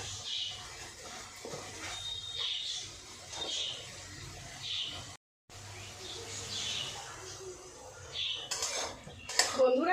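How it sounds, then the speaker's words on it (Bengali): Spice paste being sautéed in a pan for chitol fish curry jhal, with repeated scraping and clinking of a metal spatula against cookware, light sizzling underneath and a brief break midway before louder clatter. "মশলা দিয়ে তেল বেরোচ্ছে আর একটু মশলাটা কষবো"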